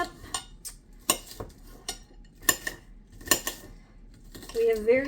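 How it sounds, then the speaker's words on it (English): Butter knife sawing through food on a plate, a series of sharp scraping clinks against the plate at irregular intervals, close and fairly loud, with a brief voice near the end. "I use a butter knife to cut everything also"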